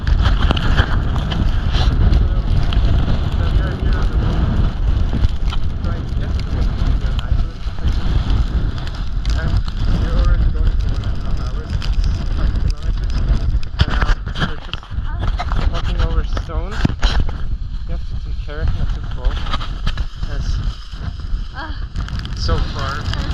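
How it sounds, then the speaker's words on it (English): Steady, roaring wind buffeting the microphone throughout on a cold, rainy day at an active, erupting volcano, with a voice faintly talking underneath the gusts. "it's windy, it's cold, and it's raining."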